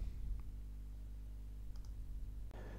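A few faint, sparse computer mouse clicks land on an OK button while a spreadsheet auditing tool runs, set against a quiet, steady hum.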